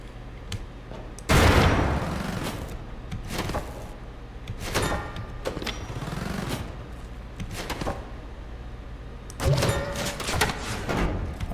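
Weird Unity hands fired as projectiles in the boomer shooter Chain Shotgun, giving sharp impact bursts at irregular intervals between quieter stretches, the loudest two near the start and end.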